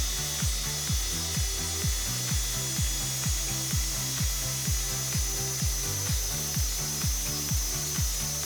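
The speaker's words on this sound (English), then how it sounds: "Cutting aluminum with a wood saw is easy and safe." Wood handsaw cutting through aluminum in a van workspace, a steady rhythm of rasping strokes, about two per second, close and fairly loud with no talking.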